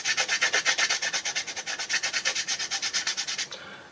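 A brush scrubs rhythmically against a painted scale model surface, knocking loose salt used for rust weathering. Quick, even back-and-forth strokes repeat steadily at close range for a few seconds, then stop abruptly.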